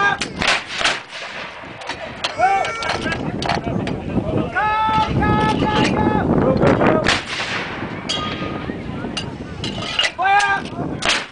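A 25 pounder field gun firing during a demonstration, several heavy booming reports with rolling echoes, interspersed with shouted commands and outdoor wind noise.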